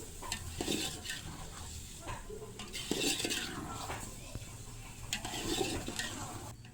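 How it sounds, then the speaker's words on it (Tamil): Chopped bottle gourd is sautéed with masala in a pan, bound for a mutton dalcha, with a soft sizzle beneath irregular scrapes and clinks of a spoon against the metal, fairly quiet and without speech. "சுரக்காவே இதில் சேர்த்துக்கணும் சேர்த்து அதுவும் அந்த மசாலா கூட நல்லா வதக்கணும்"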